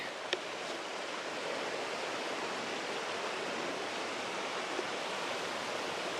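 River water flows steadily beneath a bridge on the Pacific Crest Trail in Washington, a continuous broadband rush heard from above, even and unbroken with no voices.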